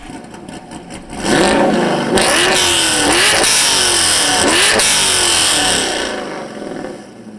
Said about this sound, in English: we're going to test what it sounds like with some revving behind the car